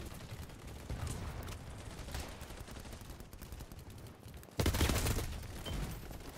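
Rifle gunfire in the shooter game BattleBit Remastered, with an HK419 assault rifle: sustained rapid bursts of shots running throughout, growing louder and denser near the end, with no talking.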